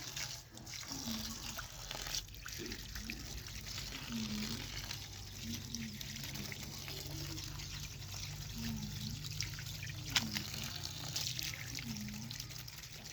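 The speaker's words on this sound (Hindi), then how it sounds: "यहाँ पे ऑन करेंगे और साग को यहाँ पे अच्छे से धो लेंगे।" Mustard greens rinsed under a running kitchen tap: a steady, fairly quiet stream of water splashing and trickling over leaves, close by, with a voice speaking intermittently over it.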